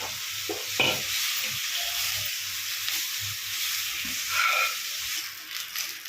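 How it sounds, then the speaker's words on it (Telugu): Dried curry leaves fry lightly in a pan with a close, continuous sizzle and crackle, broken by scraping and stirring sounds throughout; no one speaks. "ఇప్పుడు ఇందులోనే మనం మంచిగా ఆరిపోయిన కరివేపాకుని అందులో వేసుకొని లైట్గా వేగించుకోవాలి."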